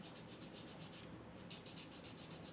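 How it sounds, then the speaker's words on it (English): Sandpaper rubbed by hand over the blade of a cane woodwind reed makes a soft, faint, steady scratching with a quick repeated back-and-forth rhythm, up close and with no voices. "I'm just sanding the whole blade of this reed."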